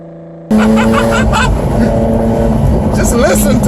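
Jaguar F-Type sports car on back roads, its exhaust bursting into a loud, close engine roar after a brief quieter moment, with sustained droning tone and crackling overrun through the rest.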